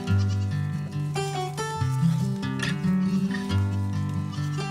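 A kept goat bleats amid loud, sustained tonal music that largely dominates the sound.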